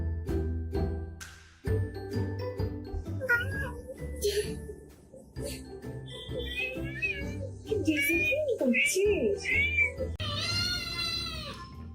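Mother cats meow repeatedly in several drawn-out, wavering calls, some rising into a strained caterwaul near the end, mixed with other busy background sound.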